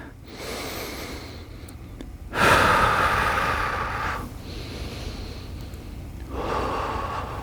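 Slow, full breaths during a yoga session, heard as a few long, close inhales and exhales with soft airy rushes and pauses between them.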